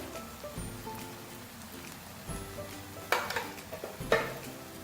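Ground red chilli, turmeric, salt and cumin are stirred into food frying in a pan for a taro (arvi) dish: a steady sizzle with repeated scraping stir strokes close up.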